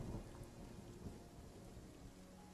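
Steady rain with low rumbling thunder around a castle at night, a continuous stormy wash filling the background at a faint, distant level with no voices.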